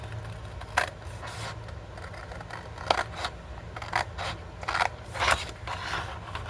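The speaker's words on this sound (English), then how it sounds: "So I think what I'm going to do is just cut this part off." Scissors cut off part of a green hanging file folder, giving a series of close, crisp snips and crunches at an uneven pace, clustered toward the end, with no talking.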